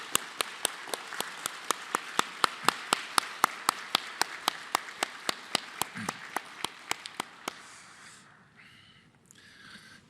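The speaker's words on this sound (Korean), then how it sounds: "우리 박수로 한번 보내드리도록 하겠습니다" A church audience gives a round of applause in honor of a senior pastor's long years of praise ministry, heard as a rhythmic run of sharp, regular claps that fade out after several seconds, followed by faint rustling.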